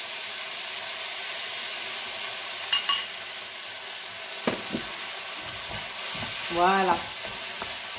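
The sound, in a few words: degreased chicken broth added to sizzling jambalaya pan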